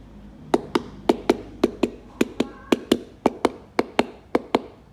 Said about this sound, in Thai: ดูว่ามันสุกหรือยังนะคะ ก็จะมาเคาะให้ดูนะคะ